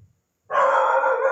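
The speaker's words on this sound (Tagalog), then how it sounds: "Maingay yung aso namin." A dog bursts into one sustained, loud, harsh bark or howl lasting nearly a second, close by, after a brief moment of quiet.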